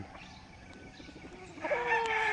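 Chickens on a farm cluck and call faintly in the distance over a low background hum, with a louder, sustained rooster-like call rising near the end.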